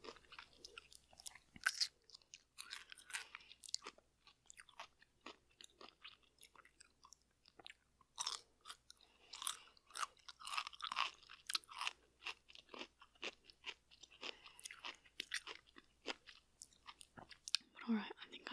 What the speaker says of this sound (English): I'm just gonna let the rest of the video be me having a little pickle snack